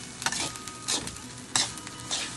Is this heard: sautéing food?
yes